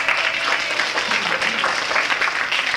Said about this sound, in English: Everybody give him a nice round of applause